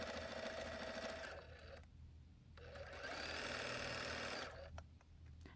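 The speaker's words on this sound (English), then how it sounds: "we're going to take this over to the sewing machine, and we're going to sew this with a 1/4 inch seam allowance" A sewing machine runs a steady, close mechanical whirr while sewing quilt sashing with a quarter-inch seam. It pauses briefly partway through, then resumes.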